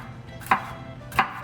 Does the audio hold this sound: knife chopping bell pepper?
yes